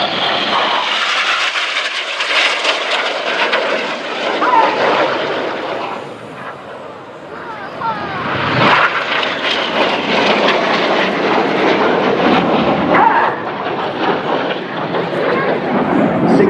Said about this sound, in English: These four aircraft are going to be closing now at 850 miles an hour.